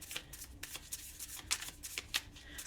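Tarot cards are shuffled up close, a quiet run of soft riffling flutters and taps in irregular bursts, with no talk.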